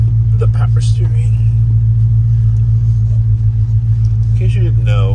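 A 1957 Chevy fitted with new modified headers idles with a deep, steady engine rumble, while a person talks over it.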